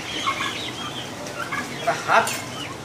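Several short, bright turkey calls ring out over a steady noisy background at a turkey farm, with a louder burst of gobbling warbles near the end.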